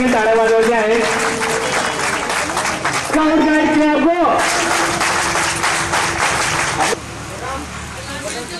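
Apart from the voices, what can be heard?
audience applause at a school reunion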